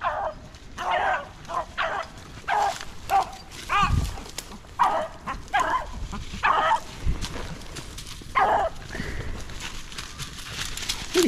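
Hunting dogs chasing a rabbit outdoors bay and bark in repeated bursts at some distance, an uneven run of calls over rustling field noise.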